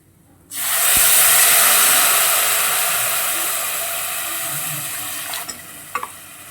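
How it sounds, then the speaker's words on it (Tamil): Five glasses of water go into a hot pot while making pongal, setting off a loud, abrupt hissing sizzle that starts sharply and then slowly fades, with a few faint clinks near the end. "நான் வந்து எடுத்த கிளாஸ் அளவுக்கு நான் வந்து ஒரு 5 கிளாஸ் தண்ணி விடுவேன்."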